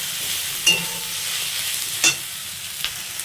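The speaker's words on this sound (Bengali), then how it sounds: "মশলাটা একটু কষিয়ে নেব।" Masala is fried in a pan for a rohu fish curry with jackfruit, with a few brief spoon scrapes over a steady, fairly loud sizzling hiss.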